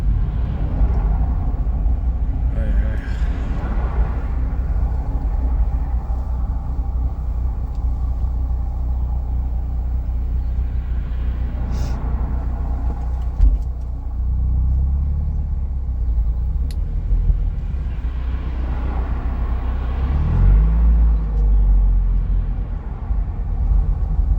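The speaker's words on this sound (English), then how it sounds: "Yep, here's the traffic I was talking about." Road traffic heard from inside a Mazda MX5 Mk3, a steady low engine and road rumble with passing vehicles swelling and fading a few times over about twenty-four seconds.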